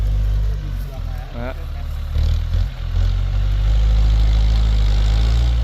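A John Deere 6125M tractor pushing soil gives a steady, heavy low engine drone that grows slightly louder toward the end, with some voices under the machine noise.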